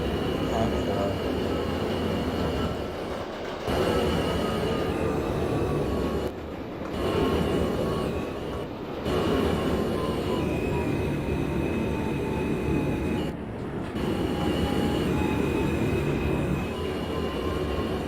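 An NYC Subway R160 train in the OpenBVE simulator game runs with a continuous loud rumble and rising and falling motor whine, briefly interrupted several times, while voices talk over it.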